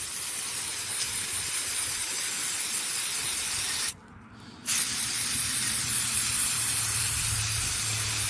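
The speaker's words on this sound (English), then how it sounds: "We give it a nice little spray down" Mass airflow sensor cleaner is sprayed onto the engine parts of a Mazda RX-8, a loud close hissing blast that cuts out briefly for a moment and then resumes just as strongly.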